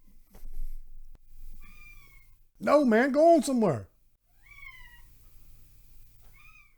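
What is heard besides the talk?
cat meowing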